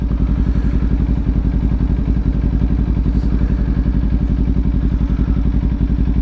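A 2018 Kawasaki Ninja 400 motorcycle drones loudly while being ridden, its engine pulsing in a fast, even rhythm under constant wind rush, close and steady throughout.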